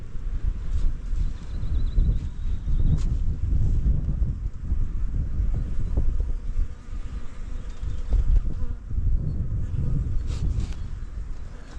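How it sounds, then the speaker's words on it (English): Many bees swarm outdoors around rotten logs in a woodland clearing, their dense, continuous buzzing hum heard up close with some wind noise over the microphone throughout. "the amount of bees here is just insane"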